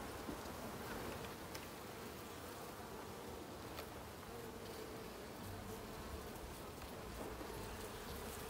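Buckfast honey bees in an opened hive during winter preparation, a dense continuous buzzing drone with a few individual bees passing closer now and then, fairly quiet and steady, no speech.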